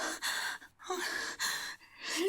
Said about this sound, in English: why is she panting so hard?